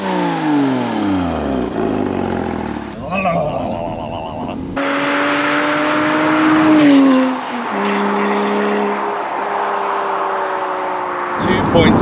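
Porsche Cayman 987 with a 2.7-litre engine, exhaust droning and revving while driving, pitch rising and falling between shifts, heard close under a voice talking.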